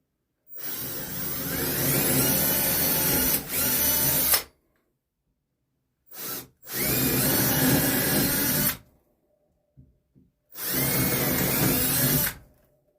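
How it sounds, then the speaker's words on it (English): A power drill boring corner holes in wood during an RV underbelly water tank install, three long high whining bursts separated by silences, close and loud. "Drill some corner holes."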